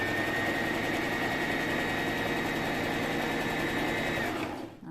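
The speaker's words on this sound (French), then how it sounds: "vous passez vraiment tout doucement avec la manivelle de votre machine. Alors on va faire une piqûre toute droite tout du long" Hand-cranked sewing machine stitching a straight seam through two layers of fabric: a steady, close whirring mechanical hum that runs without a break, then stops abruptly near the end.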